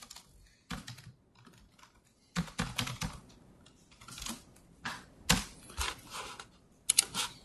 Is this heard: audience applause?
no